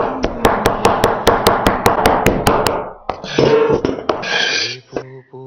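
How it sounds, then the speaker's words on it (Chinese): A knife chops soaked vermicelli noodles on a board in about a dozen quick, evenly spaced, sharp thuds, close and loud. The chopping is followed by a few seconds of softer, mixed kitchen sounds. "提前泡好的粉条剁一剁"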